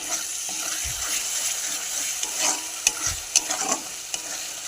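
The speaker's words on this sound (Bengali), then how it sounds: "সামান্য একটু জল দেবে, এই মশলাটা কষে আসে" Spice paste (masala) with a splash of water is stir-fried in a pan for a fish bharta, giving a soft, steady sizzle with sharp scraping stirs and clinks of a spoon against the pan.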